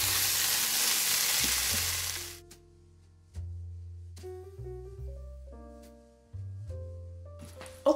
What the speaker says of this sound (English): 1/4 cup of chopped white onion. And we are just going to let those saute and soften.